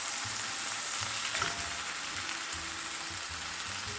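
Chicken for a fajita bowl frying in a pan, a steady close sizzle with a low, uneven hum underneath, continuous and without talk.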